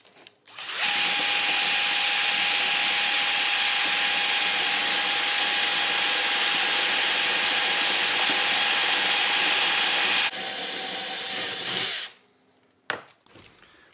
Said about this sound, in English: we're going to drill until we get to where the 5/16 step is inside the hole